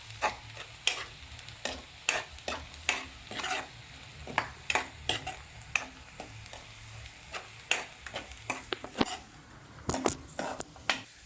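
Onion frying red in a pan sizzles softly under repeated scraping and stirring strokes of a spoon, an irregular string of close clacks running throughout.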